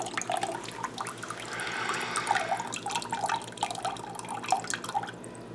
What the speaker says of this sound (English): I'm going to go ahead and pour a little of that liquid right in.